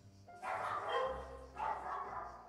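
Dogs barking at night outside a house, two loud close barks separated by a short pause.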